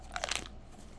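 Crisp crunching bites of a papaya-flavored chewable tablet, several quick cracks close to the mic in the first half, then quiet.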